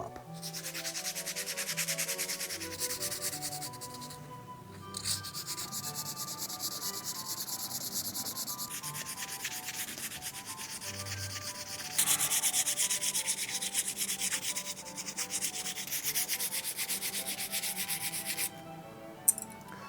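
Sandpaper rubs back and forth by hand on wooden pick-up sticks in long runs of quick, even strokes, close and soft, broken by short pauses and shifts in pressure, with no voices over the scratching.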